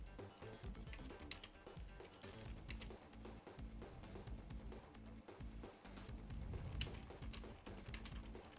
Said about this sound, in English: Just typing something out.